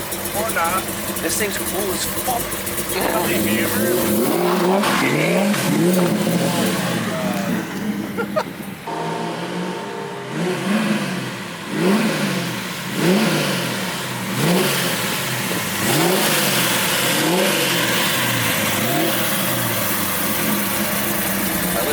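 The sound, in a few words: Nissan S chassis car with HKS RB28 stroker motor revving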